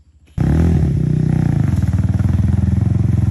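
A motorcycle carrying three riders starts off as the clutch is released, its engine jumping from near silence to a loud, close, steady chugging drone that holds through the rest.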